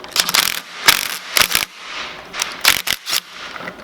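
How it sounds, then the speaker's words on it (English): A pneumatic or electric impact wrench drives a flywheel bolt down on a Honda CRF110 mini bike, hammering in several sharp rattling bursts separated by short pauses, close and loud. "the impact wrench is your friend here, whether it's air or electric"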